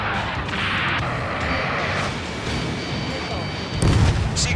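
A rocket blast in the Ace Combat 7: Skies Unknown video game, a sustained roaring rumble of battle noise with a heavier explosive boom near the end, under urgent shouted radio chatter.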